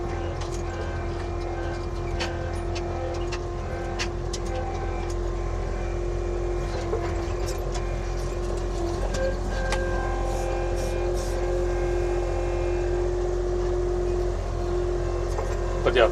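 An Avant compact loader carrying a load of gravel on a Finnish construction site gives a continuous low engine drone with a steady hum, with faint clicks and rattles running on top throughout.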